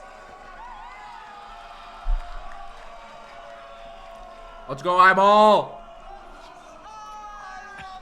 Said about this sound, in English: And we're getting that crowd noise here.